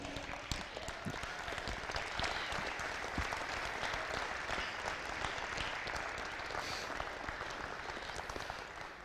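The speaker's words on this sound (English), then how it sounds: "give them a huge round of applause" Crowd applause for football parents at a Sailors championship celebration, a steady roar of many hands clapping that holds evenly for several seconds.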